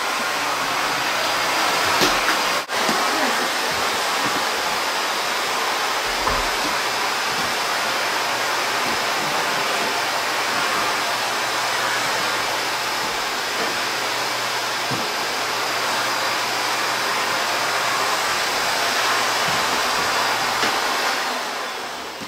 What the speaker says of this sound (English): So this is how you vacuum, huh?